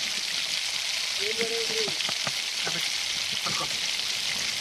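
Chicken frying in a pan gives a loud, steady sizzle, with the scrape and clack of a spoon stirring it in a few short strokes close by. No one speaks.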